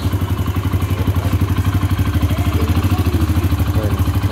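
A Yamaha XTZ125 motorcycle engine runs at a steady, lumpy single-cylinder idle, rapid regular firing pulses with a mechanical clatter on top, close and loud, no talk.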